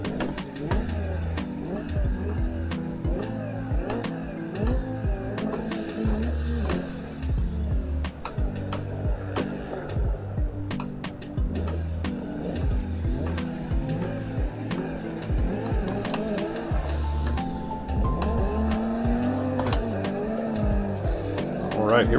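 Drift cars in Assetto Corsa wail through constantly shifting engine revs, with squealing tires and sharp skid bursts layered over one another and a voice talking throughout.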